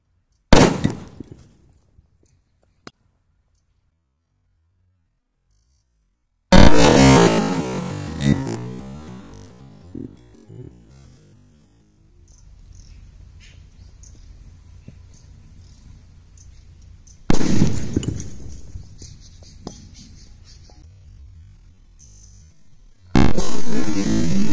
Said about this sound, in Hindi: बस इसमें हम लोग टच करेंगे तो यह जो है फट जाएगा, घड़ा और धमाका हो जाएगा।